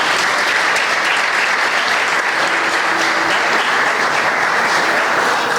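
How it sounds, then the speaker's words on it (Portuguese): A church congregation at a youth congress applauds pastor Mateus Almeida, a loud, dense, continuous wash of clapping that holds steady throughout with no break. "Aplauda o Senhor pela vida dele."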